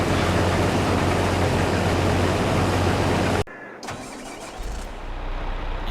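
Powerful tractor of over 500 horsepower in Farming Simulator, loud engine roar cutting off abruptly, then a quieter rumble that builds as the engine starts and settles, with no talking.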